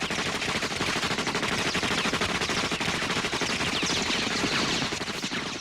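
Sustained rapid gunfire from snipers in a Batman: The Animated Series Christmas episode with the Joker, a dense continuous volley of shots throughout, loud and alone without speech.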